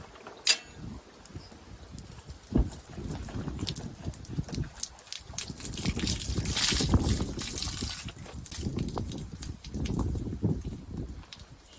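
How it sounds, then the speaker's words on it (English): Water splashes and trickles steadily as clogged screens are rinsed out outdoors on a farm, a continuous wet rushing with a few sharp knocks, fairly close. "Here's some screens that can get clogged up too, so I'm gonna take those off and rinse them out"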